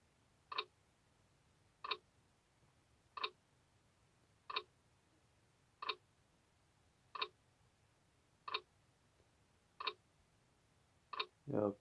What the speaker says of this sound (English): Oh, I'm hearing the clock. Tick tock,